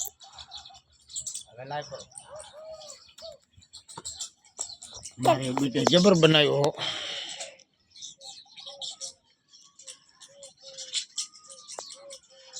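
Small birds chirp and tweet around birdhouse nests in short, scattered calls, with a loud burst of human speech in the middle and more talking throughout.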